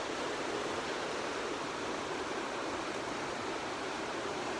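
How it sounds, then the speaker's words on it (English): A creek in Yosemite, fed by cold glacial water, rushes steadily with a dense, even wash of flowing water, close and continuous with no voices. "we're at like a creek river type thing"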